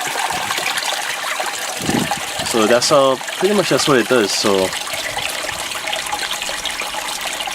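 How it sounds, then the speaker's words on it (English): Someone speaks over water streaming out of an aquaponics pipe, driven by air pressure, with a continuous close trickling gush running under and after his voice. "you see it's just gushing out."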